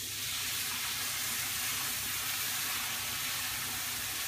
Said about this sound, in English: And I'm going to put some gravy into there.